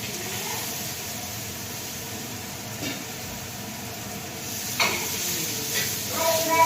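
Cashews and raisins fry in hot oil in a home kitchen pan, giving a soft continuous sizzle with a few sharper scraping stirs near the end.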